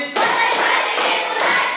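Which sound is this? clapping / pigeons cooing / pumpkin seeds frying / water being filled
clapping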